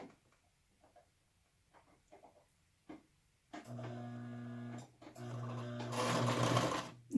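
A home sewing machine stitches fabric under the presser foot for a yarn ball cozy, quiet handling sounds first, then two steady humming runs of stitching with a short pause between, the second run louder and busier.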